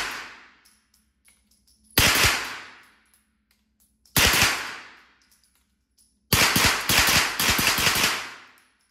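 Suppressed HK MP5 submachine gun firing 9mm in three bursts, the first two short and the last longer, each a tight cluster of muffled rapid reports with quiet gaps between.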